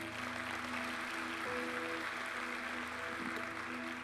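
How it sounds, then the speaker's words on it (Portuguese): A church congregation claps during a sermon, a soft, steady wash of applause heard from a distance beneath a low hum of room tone, continuous and without speech. "Você pode aplaudir a Jesus, queridos?"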